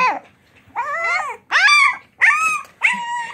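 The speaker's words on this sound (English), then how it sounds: "these puppies are so young" Four-week-old puppies whimper close by in five high, wavering whines with short pauses between them, loud and clear with no talking.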